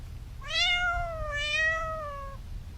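A cat giving birth lets out two long, drawn-out meows in close succession, close and clear over a low background rumble.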